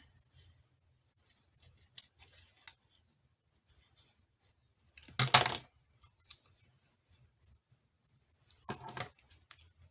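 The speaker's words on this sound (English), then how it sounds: "and I just need to cut around it. So cut it here." Scissors snip around a paper clothes tag, giving faint, sparse crisp cuts and a few louder rustling clips spaced apart in a quiet room.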